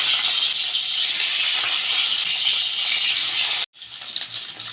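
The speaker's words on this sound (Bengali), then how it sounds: "আমার ডিমগুলো আমি হালকা করে ভেজে নিচ্ছি" Eggs fry in hot oil in a pan, giving a loud steady sizzling hiss that cuts out for a moment, then resumes.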